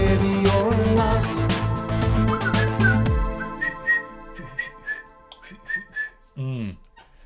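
A person whistles a catchy melody, first over a full, loud backing track, then more exposed as the music thins, with clear sustained notes and short rising phrases up close.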